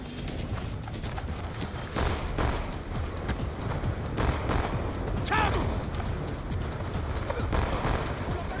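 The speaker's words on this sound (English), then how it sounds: "It's also the only campaign, Call of Duty campaign, that includes sentry guns" Automatic sentry gun fire in Call of Duty: Black Ops II, dense rapid bursts of shots mixed with game effects, continuous and loud across the whole stretch.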